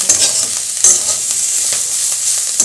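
Softened cabbage fries in oil in a pan, giving a loud, close, continuous sizzle. Repeated stirring scrapes come through on top, with no voices.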